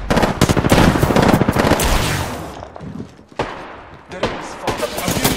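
Rapid automatic gunfire hits the player in the Apex Legends video game, with dense bursts of shots at the start, then scattered single shots and another burst, mixed with game sounds and some talk.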